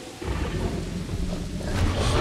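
Thunderstorm with rain in the video game Jurassic World Evolution: deep rolling thunder rumbles beneath a constant hiss of rainfall that swells slightly toward the end, with no talking.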